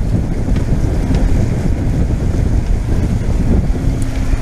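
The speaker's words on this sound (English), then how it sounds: "a head sea is when you're going directly towards the waves" A motorboat heading directly into oncoming waves in a head sea, with steady loud engine drone, wind buffeting the microphone and the rushing, slapping water of the hull meeting the waves throughout.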